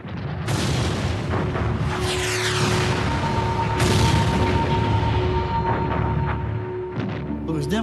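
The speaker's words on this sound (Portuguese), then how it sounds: "Mas então, de repente, vieram as explosões." Heavy World War II battlefield explosions boom one after another amid tanks, over a rumbling, chaotic background, loud and close, with bursts of debris noise between blasts.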